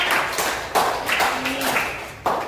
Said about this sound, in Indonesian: Tepuk tangan untuk Andika.